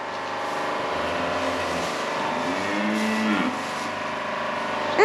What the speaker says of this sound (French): Et il y a les veaux ici.